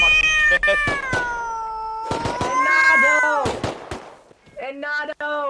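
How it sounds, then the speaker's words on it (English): A cat during a Halloween event in the game Rust meows repeatedly, loud and close, a string of drawn-out wavering cries with brief sharp clicks between them. "Can that fucking cat shut up? Stop meowing, please!"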